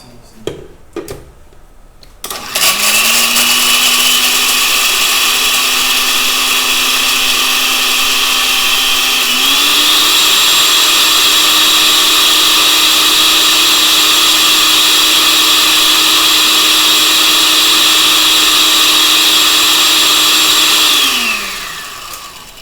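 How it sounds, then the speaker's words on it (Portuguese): A countertop blender blending cashew cream starts up and runs continuously at a loud, steady whine, shifting pitch once midway, then winds down; no talking. "Vou só bater o liquidificador aqui, Hugo."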